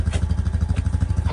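A 2020 Rubicon Deluxe ATV engine idles nearby in the Kentucky woods, a steady, rapid low throb with a slight clatter and an even rhythm throughout the brief moment.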